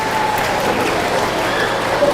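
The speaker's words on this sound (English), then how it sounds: "That deserves a round of applause," Audience applause at a middle school presentation for eighth graders, steady dense clapping from a large crowd filling the whole short stretch at an even level.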